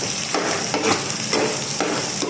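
Onion, garlic and pre-boiled chicken gizzard sauté in a pan, a steady close sizzle broken by rhythmic scraping stirs roughly every half second.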